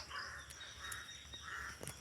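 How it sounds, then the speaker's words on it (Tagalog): A crow caws several times in short harsh bursts, spaced apart, over steady background hiss, on a mountain trail in the Philippines. "Uwak."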